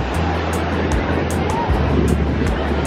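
Ocean surf at a beach in Ocean City, Maryland, a steady wash of breaking waves with heavy wind buffeting the microphone, no one talking.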